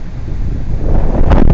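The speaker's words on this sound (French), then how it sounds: "excusez-moi un peu le vent" Strong wind buffets a microphone outdoors on a fishing outing, a loud continuous low roar with gusty swells that grows heavier toward the end.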